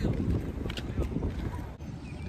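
Low, rumbling engine and water noise with buffeting wind, like riding on a boat moving across open water between Sharjah and Dubai, with no clear voices.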